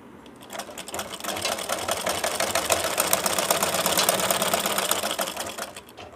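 A sewing machine runs steadily while stitching fabric for a baby girl's night dress, a close, continuous rapid mechanical whir that builds in at the start and eases off at the end.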